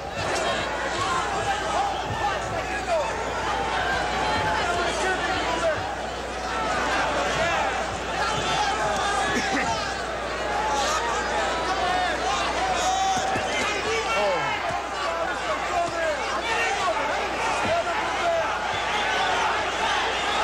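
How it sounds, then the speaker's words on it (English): Roaring boxing crowd during the Julio Cesar Chavez vs Ruben Castillo fight, a continuous loud wall of cheering and shouting with surging swells, mixed with babble from the arena. "Listen to the crowd now."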